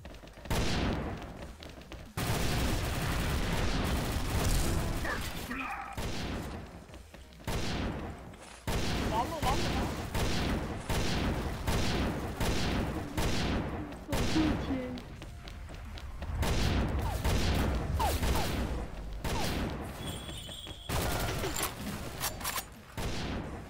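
Guns crack repeatedly in the shooter XSHOT during a bomb match, with bursts of loud, close shots separated by brief pauses and a player talking over the firing.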